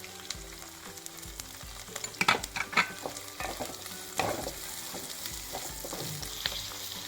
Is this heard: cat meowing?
no